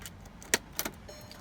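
Keys for a 2006 Volkswagen Jetta TDI jangle close by, two quick metallic clinks about a quarter second apart over quiet background, with no speech.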